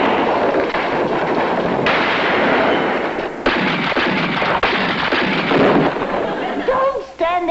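Gunfire from a 1960s CBS television show, several loud sharp shots and blasts up close within a noisy scene, with voices between them.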